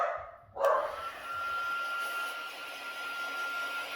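Oliver the dog lets out one sharp bark indoors, cutting over a steady hair dryer whir that continues after it.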